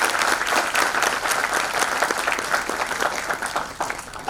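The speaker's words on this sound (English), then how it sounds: "Please give a big round of applause for" An audience at a university HR conclave speech claps loudly and steadily for several seconds, dense crowd applause with no voices over it.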